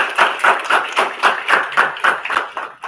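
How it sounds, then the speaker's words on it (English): Close, evenly spaced clapping at an international student film festival at Techno India University, roughly four claps per second, steady and unbroken for three seconds. "Once again, can we have a huge round of applause?"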